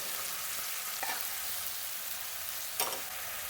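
Onion, cumin and ginger fry in a little oil in a home kitchen, a soft steady sizzle with a couple of brief louder spits and stirring clicks.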